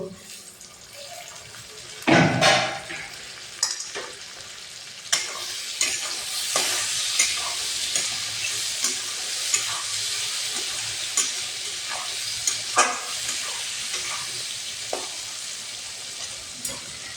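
Chopped tomatoes hit hot oil with ginger and garlic for a chicken curry, giving a loud burst of sizzle followed by steady close frying with regular scraping stir strokes.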